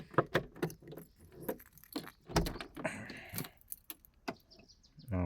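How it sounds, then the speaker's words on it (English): A bunch of keys jangles in short, scattered metallic bursts near a classic car, with some clicks and rattles between them. "Let me get these keys for this blue one."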